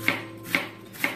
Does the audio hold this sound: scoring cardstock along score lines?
no